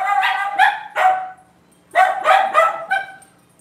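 Household dogs bark in two short bursts of several sharp, fairly close barks each, separated by a pause and trailing off into quieter room tone.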